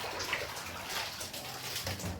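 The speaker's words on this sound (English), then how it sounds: "So we're gonna remove this water." Water is poured off washed fish from a container, a steady splashing trickle that runs the whole time, close and moderately loud.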